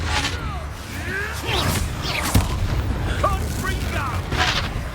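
A Confringo blasting spell goes off in the Hogwarts Legacy video game, a booming explosion near the middle among layered game effects and shouted voices.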